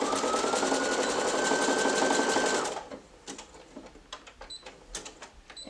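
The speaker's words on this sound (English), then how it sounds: "I like to just switch my machine to a zigzag stitch, and I'm just going to finish off these edges" Sewing machine running a zigzag stitch along headband edges, a loud, dense, steady whir for almost three seconds, followed by quieter handling clicks and fabric rustling.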